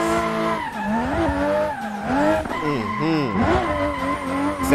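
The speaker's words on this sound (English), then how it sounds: "That engine sounds so nice too." A Mk3 Supra drifts in Assetto Corsa, its engine revving hard and swooping up and down in pitch while tires squeal and skid through the turns. The sound is loud and close, with a voice talking over it.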